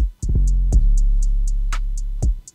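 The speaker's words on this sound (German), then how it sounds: "am Ende noch eine, beziehungsweise generell eine Hi-Hat-Roll gemacht," Trap beat hi-hat roll: rapid, evenly spaced crisp ticks over a deep sustained 808 bass with kicks, looping music alone without voices.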